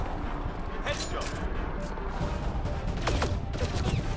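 Gunfire in the video game Mass Effect Andromeda, rapid shots and impacts in dense succession under loud game noise, with voices speaking over it.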